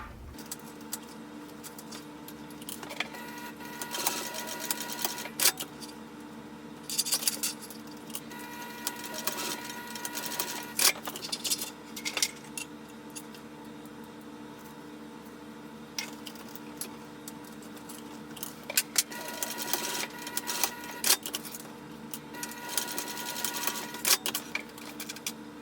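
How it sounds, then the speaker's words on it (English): A sewing machine sews down the folded end of a strap on a Brevity bag, giving faint intermittent bursts of rapid ticking stitches with pauses between them, alone and without talk. "I'm just going to sew that down."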